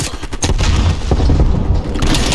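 Shotgun blasts in Call of Duty Black Ops Cold War, a loud burst of heavy booming shots packed into a couple of seconds amid dense game noise.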